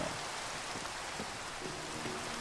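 Rain falls in the Minecraft video game as a steady, even hiss of drops with a few faint tonal blips underneath, continuous and moderately quiet, with no voices.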